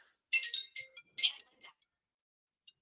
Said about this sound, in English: I got a phone call here.